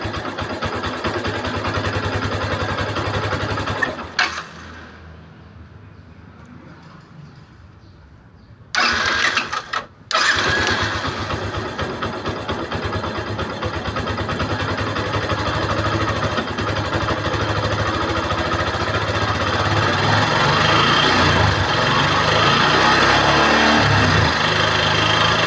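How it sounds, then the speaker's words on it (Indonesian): A motor engine runs loud and steady, drops to a quieter idle for a few seconds, cuts briefly, then roars back up and holds a strong, sustained rev. "Oke, kita coba geber."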